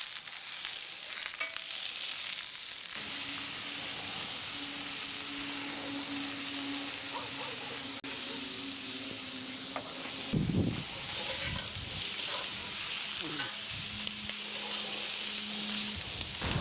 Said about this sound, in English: Once you're happy that your oil's heated up properly, you want to add your onions.